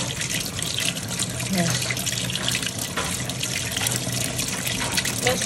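Tap water runs steadily into a kitchen sink during cleaning, a continuous broadband splashing hiss with occasional clatter, fairly close and filling the whole stretch.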